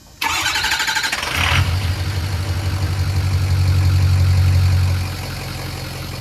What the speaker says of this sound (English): Cold start firing home.